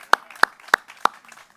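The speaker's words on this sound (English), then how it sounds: "Let's clap for America." Four sharp claps spaced evenly and close at hand, part of an audience applause at an outdoor Fourth of July celebration for the nation's 247th anniversary, with no talk over them.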